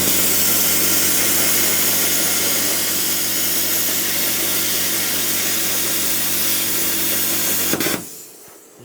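Plasma cutter slicing 4mm stainless steel, a loud, steady broadband hiss and roar that holds for about eight seconds, then cuts off abruptly, leaving quiet.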